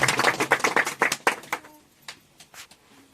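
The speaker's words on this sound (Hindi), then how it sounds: "जोरदार ताली मारेंगे" Applause at a Hindi Christian church gathering after a testimony, a burst of brisk hand clapping from a small group that thins out into scattered claps.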